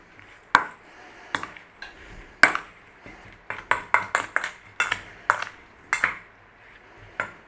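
Spoon stirring corn flour into strawberry rhubarb pie filling, a series of sharp, ringing clinks against a pot or bowl at an uneven pace, close and clear with quiet gaps between.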